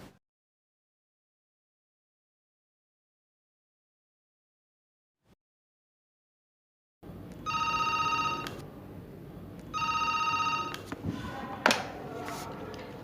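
An office telephone rings twice in repeated electronic bursts, clear and close, following several seconds of near silence, with a faint tap near the end.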